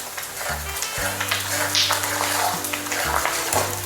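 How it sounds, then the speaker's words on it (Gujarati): Edible gum (gund) frying and puffing in hot ghee for adadiya, a Gujarati winter sweet, with a steady broadband sizzle and a few faint crackles throughout. Low tonal hum from the stove sits beneath it. "ઘી છૂટું પડી જાય પછી આપણે એમાં ગુંદ નાખી શકીએ એટલે એ ઘીમાં જ ગુંદ ફૂલી જાય"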